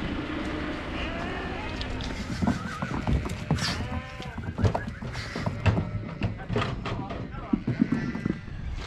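Lambs being loaded onto a truck from a loading ramp at weaning, bleating intermittently amid hoof clatter and handling noise, with someone talking over the sheep throughout.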